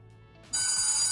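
A smartphone rings after the find-phone feature is triggered from a smartwatch. After a half-second lull, a loud, bright electronic ringtone starts suddenly and keeps sounding, close by and alone.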